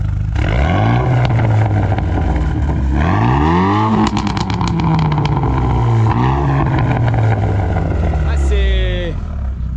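A Renault Mégane R25 F1 Team revs hard, its engine and exhaust rising and falling in several loud, close sweeps with sharp crackles between pulls, while people chat over the noise.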